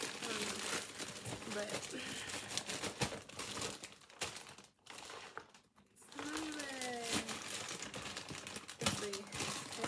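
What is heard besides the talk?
opening a taped plastic packaging bag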